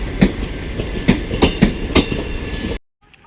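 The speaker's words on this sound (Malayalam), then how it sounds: "നമ്മളിവിടെ ഇറക്കിയിട്ട് കണ്ണൂർ എക്സ്പ്രസ് കണ്ണൂരിനെ ലക്ഷ്യമിട്ട് പോയിക്കൊണ്ടിരിക്കുകയാണ്" Kannur Express rolls away from Kanhangad station, a rhythmic clickety-clack of wheels over rail joints beating in quick, even pairs before cutting off abruptly into near silence.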